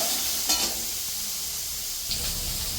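Diced potato and carrot fry in a pan with a steady, close hissing sizzle and a couple of brief louder bursts of spitting. No one talks.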